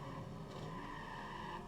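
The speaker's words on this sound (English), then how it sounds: "Why do I hear a whole bunch of engines? Are they right behind me?" Multiple race car engines drone steadily behind the player in the Sega Dreamcast racing game Monaco Grand Prix, a continuous layered roar with faint tire squeal, no talking.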